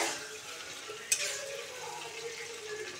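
Ridge gourd fries in a pan with cumin and chilli paste, its juices sizzling in a soft, steady hiss while a spatula stirs. One sharp metallic clink stands out midway.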